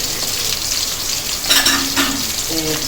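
Chopped onion sautéing in a pan for egg noodles, a steady loud sizzle with a few scraping stirs of a utensil against the pan, no voices.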